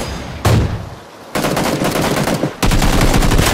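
Automatic gunfire crackles through a PUBG battle in three loud, close bursts of rapid shots separated by brief lulls, with no talking.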